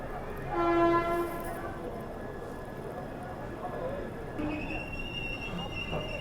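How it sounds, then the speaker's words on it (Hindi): Train departing Kanpur Central junction at night, its horn sounding briefly and loudly near the start, then steady rumbling of wagons rolling along the rails, with someone talking over it. "मात्र 5 मिनट के लिए हमारी ट्रेन यहाँ रुकी थी और अब डिपार्चर भी हमारा हो गया है"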